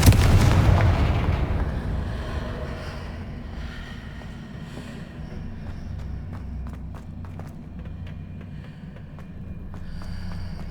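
A Confringo spell blast in the Hogwarts Legacy video game bursts with a heavy booming impact at the start, then fades into a low rumbling ambience with scattered faint footsteps and clatter.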